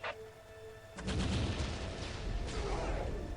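A Leman Russ battle cannon fires in the Warhammer 40,000 Dawn of War video game, one sudden heavy boom followed by a rumbling, crackling blast that lingers loud for several seconds.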